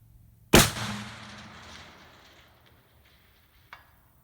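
A single sharp, loud rifle shot from a Ruger Precision Rifle in 6.5 Creedmoor cracks close by and rolls off in a long fading echo, followed seconds later by a faint distant impact.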